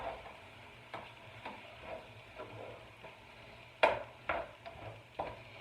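Lean 97% hamburger meat sizzles and fries in a pan, a soft steady crackle with repeated scraping and stirring knocks from a utensil, close and fairly quiet.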